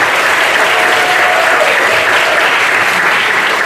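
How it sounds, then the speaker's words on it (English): A crowd at a patriotic celebration claps for Jesus Christ at a pastor's urging, loud, dense and continuous applause from many hands close by, filling the entire span without pause. "put those hands back together for Jesus Christ. Can you clap for him"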